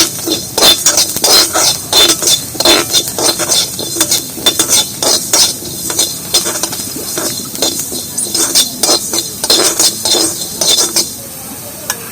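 Nigella seeds and fenugreek roast in a pan while a metal spoon stirs briskly, producing loud, rapid scraping clinks and taps in an uneven rhythm, with no voices.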